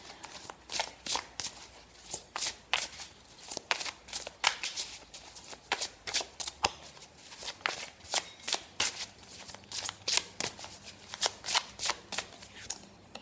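Oracle cards being shuffled by hand for a reading: a quick, rhythmic run of crisp riffling bursts, close and clear, repeating steadily with no talking.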